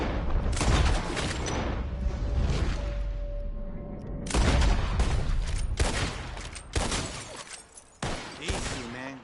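Revolver shots at bottles in Red Dead Redemption II: a run of loud, sharp bangs. A quick cluster of shots comes first, then separated blasts with short gaps, close and punchy against a rumbling background.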